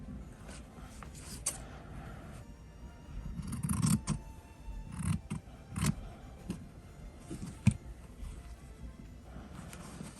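Scissors snip through fabric scraps in irregular bursts of short crisp cuts, close up and moderately loud, with quiet handling noise between them and no talking.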